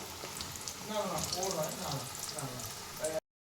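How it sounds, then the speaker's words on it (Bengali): Dhoka lentil cakes fry in hot oil, a steady close bubbling sizzle that runs for about three seconds before cutting off abruptly, with a voice speaking over it. "আমি এগুলো আস্তে আস্তে সব ভেজে একটা একটা করে আমি তুলে নিচ্ছি"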